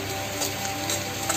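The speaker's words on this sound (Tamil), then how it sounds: "தேங்காவை வறுத்துட்டே இருக்க." Coconut fried in coconut oil with a spoon stirring through it for a Kerala lunch dish, heard as a continuous close sizzle with faint scraping swells.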